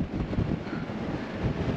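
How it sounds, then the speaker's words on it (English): Strong wind buffets the microphone in gusty, rumbling bursts, loud and close, with no other sounds. "It's a very windy up here"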